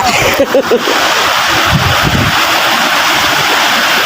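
Sea waves strike a small boat in rough water, a loud continuous roar of wind and water that never lets up, with a few short voice-like cries near the start.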